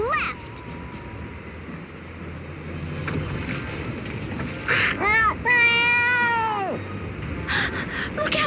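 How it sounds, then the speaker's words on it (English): A cartoonish cat meows from a cat-like character in the video game Bravely Second: End Layer: several rising-and-falling meows in a row, the loudest stretched out near the end, amid background music and game effects. "I thought he was a cute little kitty, but meow!"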